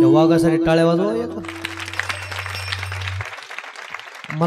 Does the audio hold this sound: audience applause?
yes